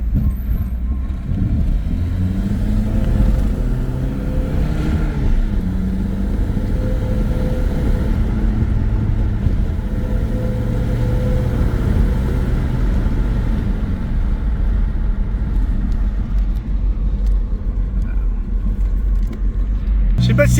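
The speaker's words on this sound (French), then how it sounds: "j'ai un gros bruit là d'air, comme si c'était soit l'échappement, soit l'admission, ou soit un démanchon" A car engine running with a loud air noise from the exhaust or intake, a heavy, steady low rumble with a wavering drone rising and falling, close and continuous.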